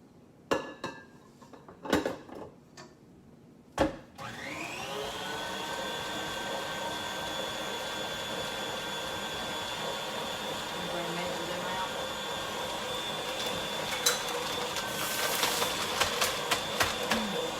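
An electric mixer churns chocolate chip cookie dough. A few clanks against the bowl come first, then the motor settles into a loud, steady drone that lasts to the end.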